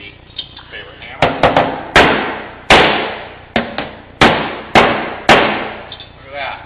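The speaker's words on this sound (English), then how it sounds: "Find my dang handy dandy favorite hammer." Hammer blows land on a car body panel during stud-pulling dent repair: roughly nine sharp, loud, close metallic strikes in an irregular rhythm, each ringing briefly before the next.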